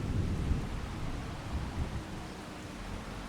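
Steady rain falling in Farming Simulator 25, a dense, even wash of noise with low rumbling beneath, constant and fairly close throughout with no voices.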